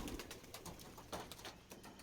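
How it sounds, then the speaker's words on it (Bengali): Pigeons, including a Giribaz cross, cooing softly in a loft, with low repeated coos and faint rustling that stays quiet and close, with no voices. "আর এই যে বাকি কবুতরগুলো,"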